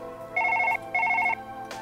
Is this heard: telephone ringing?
yes